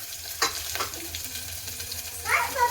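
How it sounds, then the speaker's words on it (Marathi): Coconut, ginger and garlic dropped into hot oil, giving a steady close sizzle with brief crackling bursts, and a louder spitting flare near the end. "टाकून घेऊया खोबरं, अद्रक, लसूण."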